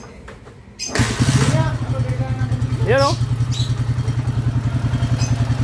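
A motorcycle engine cranks and catches, then settles into a loud, close idle with a steady pulsing rattle from a loose part in the exhaust; a voice speaks briefly over it.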